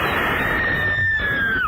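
A woman's loud, blood-curdling horror-host scream, one sustained high shriek that holds steady then bends downward and cuts off, alone without talk.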